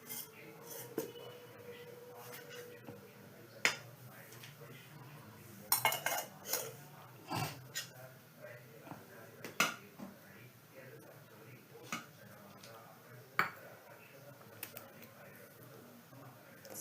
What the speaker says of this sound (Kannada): ಓಕೆ, ಈಗ ನಾನು ಸಾಸಿವೆ ಜೀರಿಗೆಯನ್ನು ಸಿಡಿಸ್ತಾ ಇದ್ದೀನಿ.